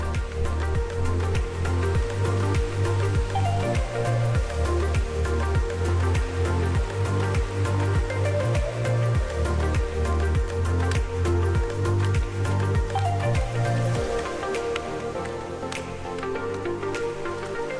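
Distant waterfalls in a canyon at Uvas Canyon County Park, heard as a steady, broad rushing wash of water that holds even for the whole stretch, with no voices over it.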